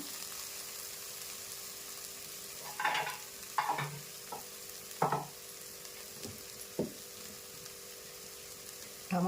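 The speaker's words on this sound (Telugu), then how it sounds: "ఆవాలు జీలకర్ర ఉల్లిపాయ కొద్దిగా దాల్చిన చెక్క ఒక రెండు మొక్కలు లవంగాలు రెండు మొక్కలు వేసానండి" Mustard seeds, cumin, onion, cinnamon and cloves fry in oil for a rui fish stew, with a faint continuous sizzle and a series of irregular stirring scrapes and clicks spaced a second or so apart.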